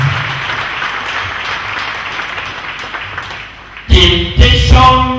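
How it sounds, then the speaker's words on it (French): A church congregation at a Sunday service claps, a moderate wash of applause that gives way to loud music with voices near the end. "Applaudissez pour le Seigneur Jésus Christ."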